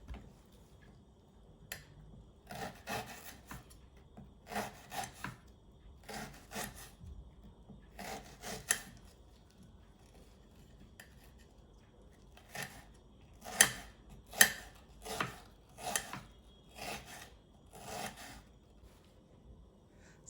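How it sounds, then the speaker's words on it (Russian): A knife cuts an onion into half rings on a wooden board in quick bursts of crisp slicing strokes, close and fairly quiet, with pauses between runs. "Поэтому я лук режу полукольцами."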